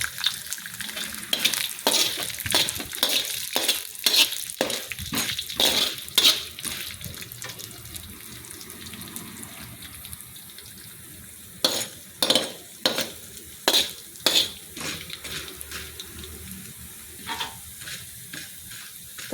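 Urad dal frying in a large kadai while it is stirred, with steady sizzling under repeated scraping strokes of a spoon against the pan, close and continuous.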